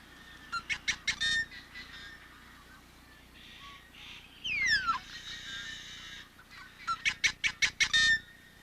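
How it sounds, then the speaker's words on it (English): A colony of yellow-headed blackbirds sings on a prairie marsh: bursts of rapid harsh clicking notes, a long buzzing, sliding screech in the middle, then another quick clicking run, fairly close against a quiet background. "a colony of yellow-headed blackbirds on a prairie marsh"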